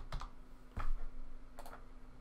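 Three quick clicking bursts come from a computer mouse and keyboard, close and crisp, with short pauses between them and no voice over them.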